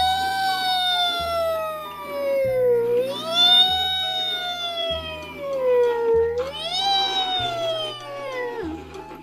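A toy ambulance siren wails in long rising and falling electronic sweeps over a steady pulsing beep pattern, fairly loud and close, repeating without pause.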